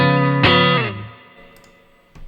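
A clean Stratocaster electric guitar played through a Kemper amp: one ringing note with a sharp attack sustains and bends down, fades, and a light pick attack follows near the end, heard alone and close.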